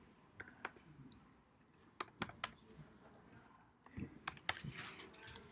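Soft, irregular clicks of fingers typing on a computer keyboard, with bursts of quick keystrokes separated by short pauses, quiet and close with no talking.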